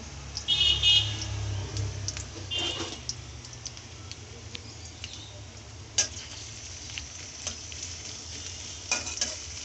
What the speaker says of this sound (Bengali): পেঁয়াজটা আমরা একটু হালকা ভেজে নিয়ে তারপর আমরা মশলা দিব